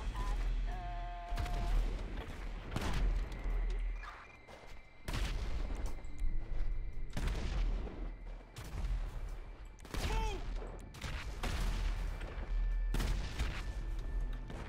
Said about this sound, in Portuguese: Tô escutando explosões, hein?